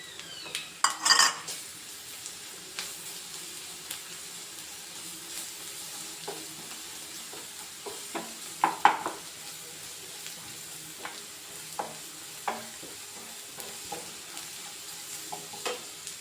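A ground ginger, garlic and black pepper paste sizzles in a pan with fish, a soft steady frying hiss broken by scraping stirs and occasional utensil clinks against the pan, close up with no talk.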